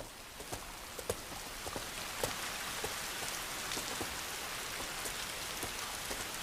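Steady rain falls on a surface with scattered louder drops, constant and fairly close, without any voices.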